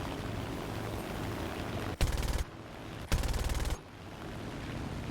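Two short bursts of aircraft machine-gun fire from a He-112 B-1/U2 fighter in War Thunder, each a rapid rattling volley about half a second long, loud over a steady engine roar.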